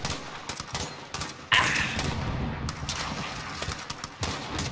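Rapid bursts of automatic gunfire and explosions in a Modern Warfare campaign firefight, loud and dense, with a sharp blast partway through followed by sustained rattling shots.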